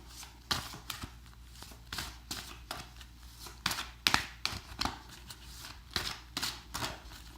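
Tarot cards being shuffled by hand, a close series of quick papery riffles and soft slaps in irregular bursts, with quiet pauses between them.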